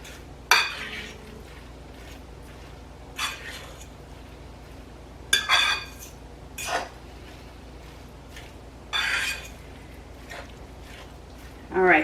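Meatloaf ingredients are mixed in a bowl, heard as a few short bursts of clinking and scraping utensil contact spaced across a quiet kitchen background.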